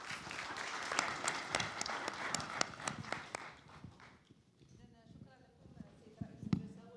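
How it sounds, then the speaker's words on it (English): Audience at a private-sector business forum applauding the panelists, a burst of brisk, dense clapping that fades out after a few seconds into quieter room murmur. "Please give our panelists a round of applause."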